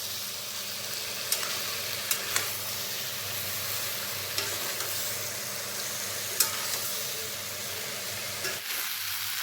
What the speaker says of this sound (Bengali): মশলাটাকে এখন আমি এঁচড়ের সাথে খুব ভালো মতন মিশিয়ে নিচ্ছি, আর মশলাটাকে আমি ভেজেও নেব।